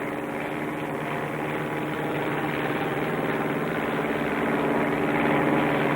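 A small bush plane's propeller engine drones steadily in flight over desolate Baja desert, a close, continuous harmonic hum that swells slightly louder toward the end.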